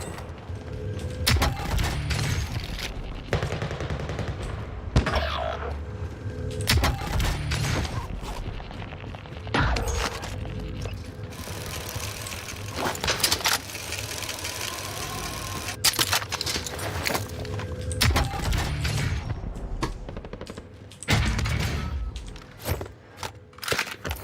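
Intermittent gunshots and mechanical clatter from a shooter video game, sharp scattered cracks over a busy, steady background of game sounds.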